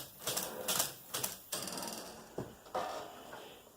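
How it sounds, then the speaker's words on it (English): Brother knitting machine card reader mechanism shifting the card, giving a series of sharp, close mechanical clacks and clicks at irregular intervals with no talking. "it moves the card every time the card reader"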